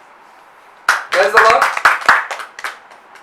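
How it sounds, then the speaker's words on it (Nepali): A church congregation clapping hands during a worship service: sharp, scattered claps start abruptly and carry on irregularly beneath a man's loud spoken exclamation, which is fairly close. "हामी पहिला धन्यवाद दिउँ ताली बजाएर।"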